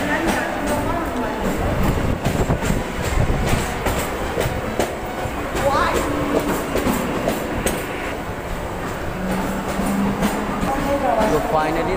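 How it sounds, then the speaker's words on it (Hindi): A non-AC Mumbai local train between Dadar and CSMT rumbling along the rails with rhythmic clatter and a steady roar, loud and close, with some faint voices in the background. "local train"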